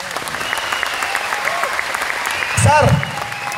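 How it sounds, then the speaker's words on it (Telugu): An audience of over two thousand people at a talk bursts into a short round of clapping near the end, loud and close, following a stretch of quieter room sound. "ఒప్పుకుంటే క్లాప్స్ కొట్టండి"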